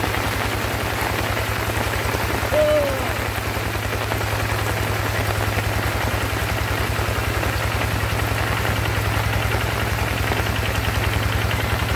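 Heavy rain pouring down steadily across the whole stretch, a dense constant hiss with an engine humming low underneath, near and loud with no break and no talking.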